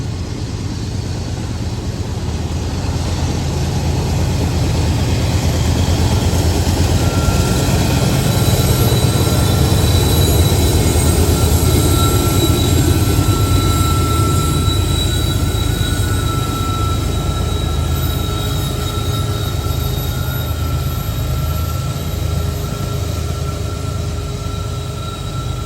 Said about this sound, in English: got another one coming up. It's like a gondola train